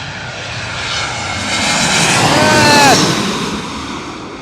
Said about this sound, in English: Ah! Loud plane.